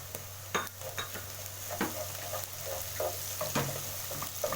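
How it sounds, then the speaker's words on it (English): Onions, garlic and ginger frying in a pot for matoke in coconut, a steady sizzle broken by regular scraping clicks of a spoon stirring, close and moderate in level without talk. "you can fry your onions until they become translucent. So next step is adding your garlic and ginger."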